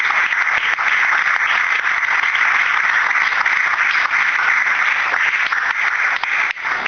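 Sustained applause from a church congregation honoring God during a service, a dense, steady wash of many hands clapping with no break, filling the room for several seconds.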